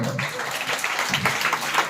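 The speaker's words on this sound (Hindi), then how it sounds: "एक बार जोरदार इनके लिए तालियां हो जाए।" Students and staff clap at a school Teachers' Day celebration, a brief burst of dense crowd applause at moderate loudness with a voice faintly audible underneath.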